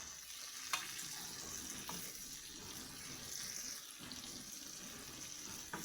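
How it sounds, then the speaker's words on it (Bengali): Two chopped potatoes fry in hot oil in a pan, giving a steady, close hiss and sizzle with a few light clinks throughout and no talking. "এই আলুটিও আমি ভালো করে নেড়ে চেড়ে ভেজে নেব।"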